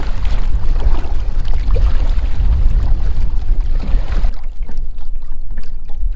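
Strong wind buffets the microphone outdoors on open water during a kayak paddle, a loud, continuous low roar of gusts that thins out somewhat near the end, with no voices.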